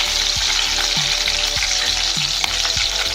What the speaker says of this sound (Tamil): நான் ஒரு 5 பச்சை மிளகாய் சேர்த்துருக்கேன். இதை லைட்டாக வதக்கி விட்டுக்கோங்க.